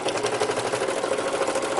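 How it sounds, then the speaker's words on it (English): A Singer Heavy Duty 4423 sewing machine stitches through a wooden yardstick, a fast steady mechanical whir with rhythmic needle knocking, close and continuous with no talk. "it's just sewing and feeding that yardstick right through there"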